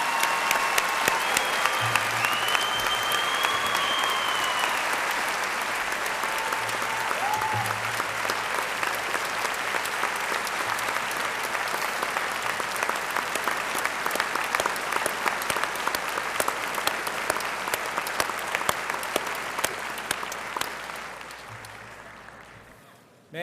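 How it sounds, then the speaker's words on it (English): A large graduation ceremony crowd applauding for over twenty seconds, a continuous wash of clapping that holds steady and then tapers off near the end, with faint voices and a whistle early on. "Let's give them a round of applause."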